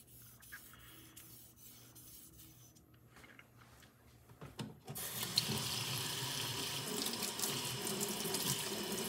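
Water runs strongly from a tap onto a sharpening stone coated in slurry, a steady loud splashing that starts abruptly partway through after quieter rubbing and trickling.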